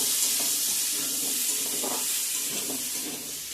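Dried red chillies sizzle in hot oil with turmeric and salt, the first step of a fish curry with radish and potato; a steady, close, bright hiss runs throughout with faint stirring.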